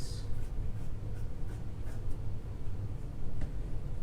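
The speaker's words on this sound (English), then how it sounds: "So I'm just going to fold it and I'm going to cut it." Scissors snipping through folded fabric being cut for a headband and face mask, a few soft irregular cuts close by over a low steady background hum.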